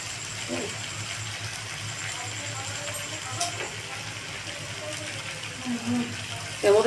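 Water pours into a pan of fried potatoes and pointed gourd with fried spices, making a steady, even gushing splash that runs the whole time, with a faint voice underneath.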